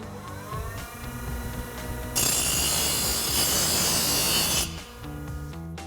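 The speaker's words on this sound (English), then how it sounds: "now we're gonna come over to the grinder and clean up our edges." An angle grinder smooths the freshly cut edges of an exhaust pipe during a Flowmaster Outlaw Extreme single exhaust install on an EcoBoost F-150, a loud, harsh, close grinding whine lasting a few seconds between quieter workshop hum.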